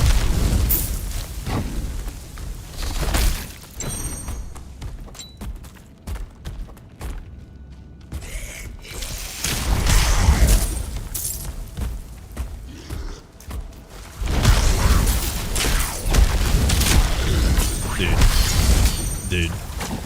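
Loud booming explosions and bursts from Titan Quest 2 combat, repeated heavy impacts with dense continuous rumble throughout, mixed with footsteps and other game effects.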